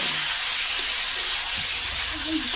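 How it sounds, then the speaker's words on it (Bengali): A prepared spice paste is poured into vegetables frying in a pan, producing a steady, close hissing sizzle throughout, with a couple of faint low knocks beneath it. "এই যে মশলাটা বানিয়েছিলাম এতে ঢেলে দিব।"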